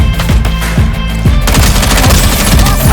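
Rapid automatic gunfire from the shooter game Fate Trigger rattles in loud, dense bursts with sharp repeated shots, close and overwhelming for the whole stretch.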